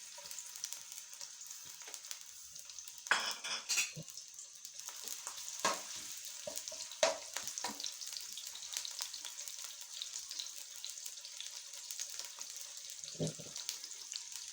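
Chopped onions go into hot oil in a kadai and sizzle and fry steadily, with a few louder crackles and stirring knocks throughout.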